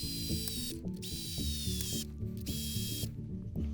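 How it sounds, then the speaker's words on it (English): A hand ratchet clicks rapidly and close while tightening the bolts on an American Standard SpaLet bidet mounting plate, in several quick runs of ticking strokes. "And now we just tighten the bolts down."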